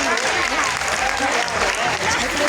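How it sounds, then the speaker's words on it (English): Audience applause at a GBV awareness event, a dense steady wash of clapping hands filling the whole moment, with some voices mixed in underneath. "give yourselves a round of applause, ladies and gentlemen."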